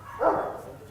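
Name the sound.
dogs barking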